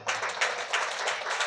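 A church congregation claps loudly together, a dense, steady burst of applause from a crowd lasting a second or two, with no talking over it.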